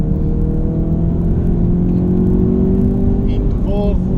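A Ford Focus RS on track at Spa-Francorchamps, its engine a loud continuous in-car roar with rising pitch under acceleration, while someone talks over it.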